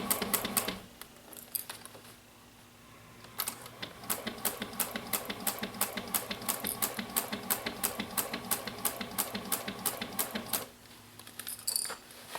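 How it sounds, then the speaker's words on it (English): A home sewing machine stitches a seam on a tote bag interior, a steady rapid mechanical clatter running for several seconds with brief pauses and stops, no talking over it. "we're going to sew this up with about a 1/2 inch seam allowance"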